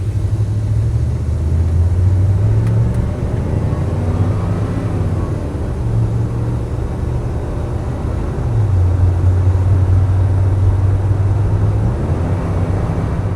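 A 1988 Chevrolet K2500 4x4 pickup drives along, its engine droning loud and close with pitch climbing, dropping at a downshift, then rising again over steady road rumble.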